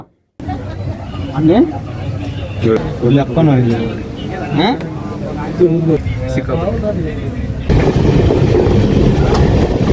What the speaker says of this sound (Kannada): ರೈಲ್ವೆ ಸ್ಟೇಷನಲ್ಲಿ ನೋಡಿ ಟ್ರೈನ್ ಹೋಗ್ತಿರೋದು